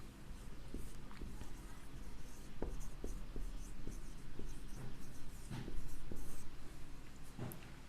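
A pen scratches across paper in short strokes while a heading is written, a steady close scribbling with small taps and faint background noise.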